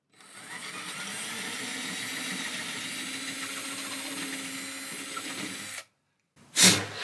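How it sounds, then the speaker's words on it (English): A drill bit bores down through the rosette and a glued-in wood block of a junk archtop guitar, producing a steady, moderately loud whirring grind for several seconds, then a pause and a short sharp burst. "we are going to take a drill bit and drill down precisely through the rosette and through the block we just put in."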